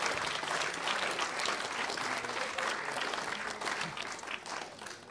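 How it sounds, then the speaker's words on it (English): Wedding guests at the Berystede Hotel in Ascot give a long burst of dense, steady applause after the speeches. The clapping fills the room and fades slightly near the end. "Let's give Joyce and Mel a really big round of applause for two amazing speeches."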